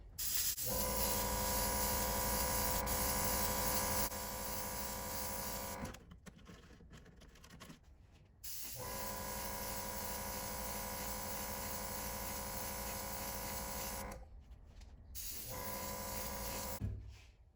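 Spray gun laying even base coats of Wicked aluminum onto a custom 1964 Nova gasser wagon, a steady hissing airflow running in long continuous passes with short pauses between them.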